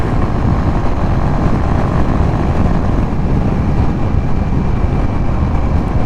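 A Yamaha XSR 155 motorcycle cruises along a highway, heard as a loud, steady, unbroken roar of engine and rushing wind close to the rider, with no talking.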